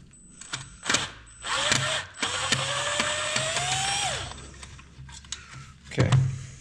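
A power tool whirs and rises in pitch during a few-second run, with clicks and metallic handling around it, as parts of a truck's bumper light housing are riveted back together.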